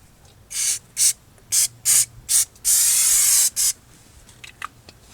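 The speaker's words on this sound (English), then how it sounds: "I just wanted to give one more quick spray here" An aerosol can of brake cleaner sprays onto the front brake rotor of a 2005 Toyota Corolla in a series of loud, close, sharp hissing bursts, with one longer blast near the end.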